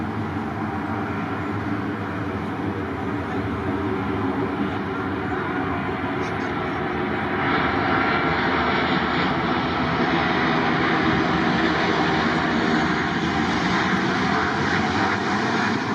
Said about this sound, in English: This plane looks like it's going to land very nearby.